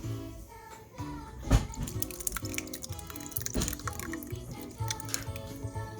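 Milk kefir poured from a container into a vessel, a steady liquid trickle and splash with a few drips, close and fairly quiet.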